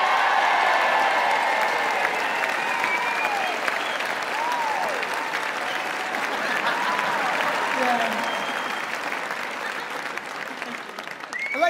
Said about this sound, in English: please give a big round of applause to Gaynor Faye!